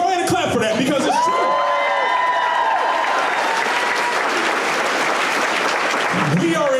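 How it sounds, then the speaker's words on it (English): Town hall audience bursts into sustained applause with cheers and whoops, a dense crowd roar after a few voiced calls at the start, loud and continuous before fading near the end. "go ahead and clap for that"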